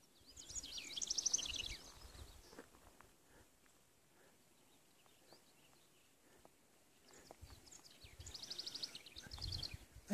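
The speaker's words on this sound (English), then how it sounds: "could listen to these bird calls all day." Birds calling across an open mountain meadow by a forest trail at Carson Pass on the Pacific Crest Trail, bursts of high chirping near the start and again toward the end, with quieter rustling and faint steps in between.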